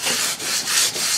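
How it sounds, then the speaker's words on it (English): A paper napkin scrubs the surface of a carbon steel wok in quick, rhythmic back-and-forth strokes, a close, dry rubbing hiss that repeats about four times. "So I'm just gonna use this paper napkin to scrub the surface."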